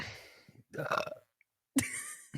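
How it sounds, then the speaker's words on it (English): Burps on a podcast, two or three close, guttural belches separated by brief pauses, fairly quiet overall. "I burped."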